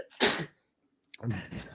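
A single sharp sneeze bursts out close by, followed after a short pause by someone starting to talk.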